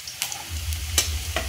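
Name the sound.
frying chopped onion and dry red chilies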